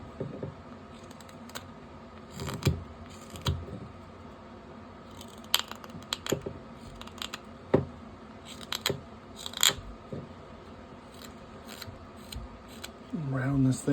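A sharp knife carving out a ghost Halloween decoration, close crisp cutting clicks and scrapes scattered irregularly over a quiet background, with a voice talking softly now and then.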